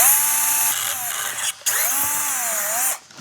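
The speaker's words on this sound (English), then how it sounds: "There's one more hole we gotta drill out right down there." Loud, close drilling of a hole on a Volkswagen Golf R: a motor whines, cuts out for a moment, then restarts with a wavering pitch as it works through material before winding down.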